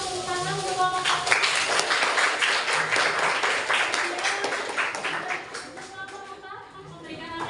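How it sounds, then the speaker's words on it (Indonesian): A class or group applauds for group 1, a dense patter of clapping lasting several seconds beneath voices talking and calling out, thinning slightly near the end. "Tepuk tangan untuk kelompok 1."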